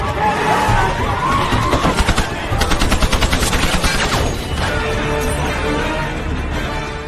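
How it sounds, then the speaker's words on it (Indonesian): Bursts of rapid automatic gunfire rattle in quick succession amid a loud, chaotic battle din with crashes and rumbling. "Archer dan Solomon berlari menghindari setiap tembakan dari brutalnya serangan pasukan pemberontak."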